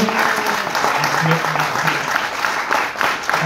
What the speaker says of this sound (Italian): abbiamo anche il nostro pubblico che si fa sentire con un applauso